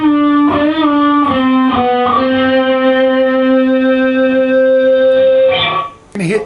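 Electric guitar plays the closing lick of a song: a few quick picked and slid notes settle into one long sustained, slightly effected note that rings for several seconds before cutting off, with a brief extra stab at the very end.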